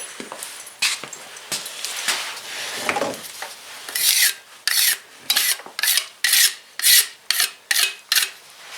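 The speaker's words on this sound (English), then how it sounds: "We scoop off some of that dirt on here." Rough scraping of dirt off a vehicle battery, first in scattered scrapes, then about ten steady, regular strokes, close and fairly loud.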